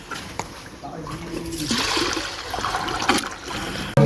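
Irrigation water running into a farm field, a steady rushing trickle and splash with brief louder bursts near the end, close and continuous with no voices.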